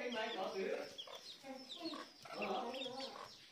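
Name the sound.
Chinese francolin (đa đa) calling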